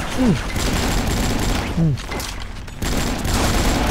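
Gunfire in the online shooter AvatarStar, a dense fusillade of rapid shots running almost continuously at steady loudness, with a brief drop near the middle and no talking.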